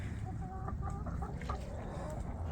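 Chickens cluck in a backyard run with Cochin hens and a rooster, a series of short, close, repeated clucks over steady low farmyard background noise.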